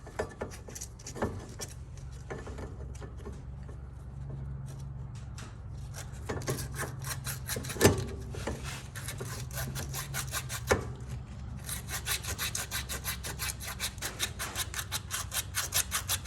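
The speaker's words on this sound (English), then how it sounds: "So you want to try and get all that rust off of there." Rust being scraped off the brake pad bracket of a Polaris RZR, a rapid run of gritty metal scraping strokes close by that grows busier and brighter toward the end, with no talking.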